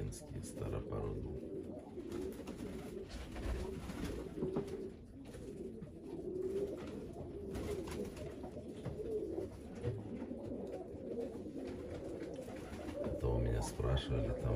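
Feather-footed old-breed Lakin pigeons coo softly and repeatedly in a loft, a low continuous murmur of several birds close by, with some speech-like noise mixed in.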